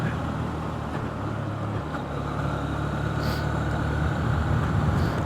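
Honda CB125F motorcycle engine holding a steady low drone in fifth gear while riding, with constant road and wind noise around it and no talk.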